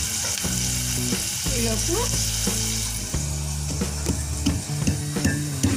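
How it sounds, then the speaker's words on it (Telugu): Ginger and garlic fry in ghee for a ginger garlic soup, giving a loud, steady sizzle close by with stirring scrapes throughout. A single spoken word briefly overlaps it. "నేతిలో కొంచెం వేయాలండి ఇవి."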